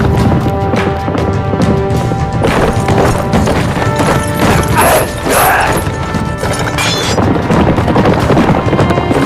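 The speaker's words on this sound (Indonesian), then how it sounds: "Oboro pun mengejar Koshiro dengan kuda." Horse hooves clattering in a rapid chase scene, with clanking mechanical rattles and crashes layered over dense, loud, continuous action sound; no clear speech.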